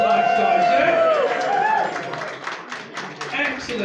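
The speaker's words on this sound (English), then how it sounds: "Give everyone a big round of applause for this movement tonight" A crowd at a London business networking evening breaks into a round of applause that swells and continues under someone speaking and cheering voices.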